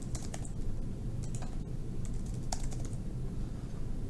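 Rapid clicky keystrokes on a computer keyboard as a username and password are entered, close and steady over a low hum, with no voices.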